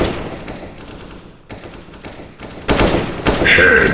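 Rapid automatic gunfire in a shooter game rattles in close, loud bursts, intensifying in the last second and a half, with game announcer calls layered over the shooting.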